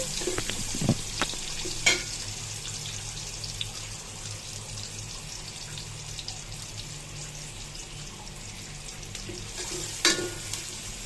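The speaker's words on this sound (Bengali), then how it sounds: "তার মধ্যে কয়টা লবঙ্গ, এলাচ আর তেজপাতা, দারুচিনি আমি দিয়ে হালকা ভেজে নিচ্ছি।" Cloves, cardamom, bay leaf and cinnamon fry gently in oil with browned onion, giving a soft, steady sizzle with a few sharp clicks near the start and end, and no voices.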